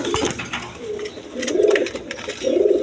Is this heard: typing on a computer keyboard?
no